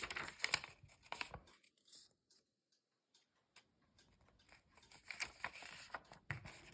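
Origami paper being folded in half gives soft, close crinkles and crisp creasing taps, with a quiet pause in the middle before more rustling.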